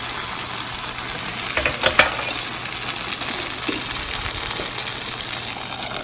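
Rice pancake batter fries in a hot pan, giving a steady soft sizzle throughout with a couple of brief louder scrapes or bursts near the middle, close and moderate in level.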